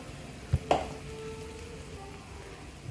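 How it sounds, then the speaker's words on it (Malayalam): A spiced egg snack mixture with chilli and pepper powder is stirred in a pan, giving a faint steady sizzle with a couple of sharp utensil knocks near the start and no talking. "ഇനി ഇതൊന്ന് ഇളക്കി കൊടുക്കാം"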